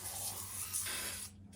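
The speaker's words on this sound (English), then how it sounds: "I'm gonna spray in there." A can of Kroil penetrating oil sprays in one continuous close hiss that lasts just over a second and then cuts off, with no one talking.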